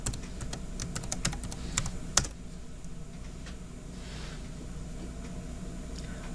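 Computer keyboard typing, a quick run of close, crisp key clicks for about two seconds ending in a sharper keystroke, then near silence.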